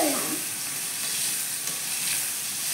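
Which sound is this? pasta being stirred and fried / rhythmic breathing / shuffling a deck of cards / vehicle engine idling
pasta being stirred and fried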